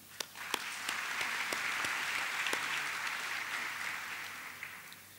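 A crowd claps at the opening of USJ's 150th anniversary celebrations, a continuous spread of applause with a few sharp nearby claps, holding steady before easing slightly.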